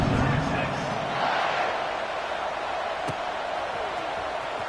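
Stadium crowd in College Football 26 during a kickoff after a touchdown drive, a steady dense roar and murmur holding at even loudness throughout, with one brief sharp thump partway through.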